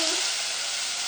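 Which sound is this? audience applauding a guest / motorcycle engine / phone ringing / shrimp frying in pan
shrimp frying in pan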